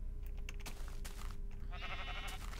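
Sheep bleat in the Minecraft video game, a couple of short wavering calls over a steady low background hum, with no talking.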